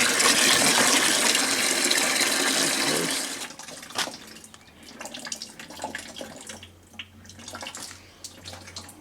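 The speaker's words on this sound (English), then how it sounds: "Flush the heat exchanger out pretty good." Water gushes loudly through a tankless water heater's heat exchanger during a flush, then cuts off abruptly, leaving quieter trickling, dripping and a low hum.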